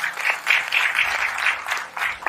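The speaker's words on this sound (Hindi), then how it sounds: "तो दोस्तों एक जोरदार तालियां" A burst of lively clapping from a group at a network marketing business meeting, rising and falling in uneven waves for a couple of seconds.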